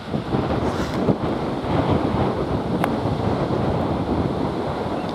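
Wind blows across a golf course at Heythrop Park Resort, a steady, loud roar of rushing air buffeting the microphone without letting up.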